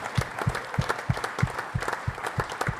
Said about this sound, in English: could you give our sponsors a big round of applause?